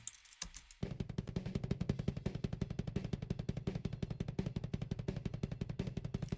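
A fast, relentless run of tight, punchy power metal kick drum beats with a sharp, clicky attack, miked inside the drum very close to the batter head.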